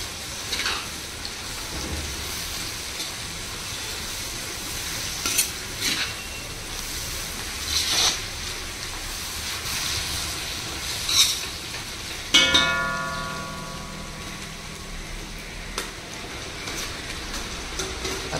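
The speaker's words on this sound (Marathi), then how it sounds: "कांदो असं मस्त आवाळलो." Onions sizzling and frying in a pan for veg biryani, a steady crackling hiss broken by occasional spoon stirring and scraping, with a louder burst of sizzle near the end.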